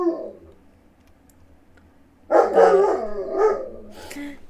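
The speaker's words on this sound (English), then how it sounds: "Excuse the barking dog." A dog breaks into a few loud, close barks after a quiet stretch with a low background hum, the barks clustered in a short burst.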